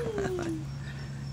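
A dog whimpers close by with a high, thin whine that slides downward, followed by short yips, over a steady low hum.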